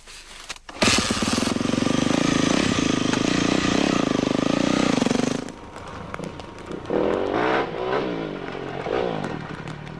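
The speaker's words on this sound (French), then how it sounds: "Je pars maintenant avec la nouvelle 400 YZF 4 temps." Yamaha 400 YZF four-stroke enduro motorcycle revs hard close by and pulls away, its loud engine roar holding steady for several seconds, then dropping off as it rides farther out.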